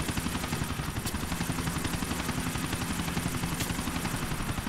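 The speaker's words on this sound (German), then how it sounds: "Das ist echt schwierig zu reden und dabei noch den Helikopter zu landen." Helicopter in the video game GTA IV as it comes in to land, a steady loud rotor and engine drone running continuously throughout without a break.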